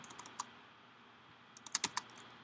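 Several quick computer keyboard keystrokes in a sparse burst, one isolated tap and then a tight cluster near the end, crisp and close over a quiet background.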